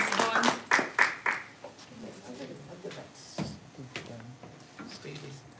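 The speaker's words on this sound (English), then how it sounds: "huge, huge round of applause to our James Bond team" An audience at a Toastmasters club meeting claps for the James Bond team. A burst of close, sharp claps comes first, then a voice talks over the thinning applause.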